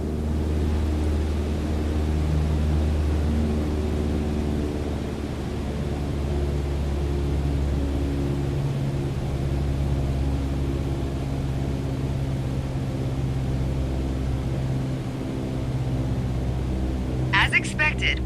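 Propeller airplane engine in Microsoft Flight Simulator 2020, reduced to 1,800 RPM for descent: a loud, steady droning hum with low tonal harmonics running throughout, briefly joined by a short crackle near the end.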